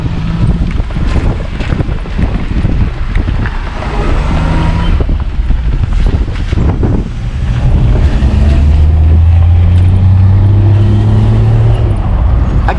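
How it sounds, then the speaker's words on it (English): Young men ride motorbikes through a village near Bewal. A rough engine drone grows louder and steadier toward the end, partly buried under heavy wind buffeting on the microphone. "Young lads driving motorbikes."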